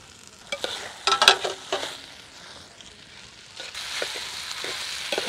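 Fried soya chunks being stirred in a pan: a close, scraping stir with a burst of clatter near the start, over a steady frying sizzle that swells again toward the end.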